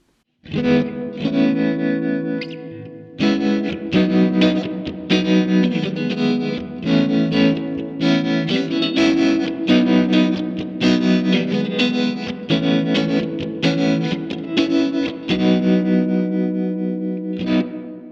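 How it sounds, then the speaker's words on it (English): An electric guitar through a VOX AC30 amPlug 2 headphone amp, set to reverb with tremolo, plays strummed chords with a wavering, pulsing shimmer and reverb tails, loud and alone, briefly pausing once. "let's go back to the reverb with the red tremolo setting"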